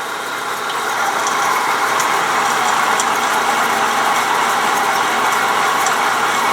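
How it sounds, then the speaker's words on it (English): A drill bores a 3/16 lanyard hole through a steel knife blank, giving a steady, loud, continuous mechanical whir with a grinding edge and no talk. "I'm going to take and find myself like a 3/16 bit, and that'll be bored out to be the final size for the lanyard hole"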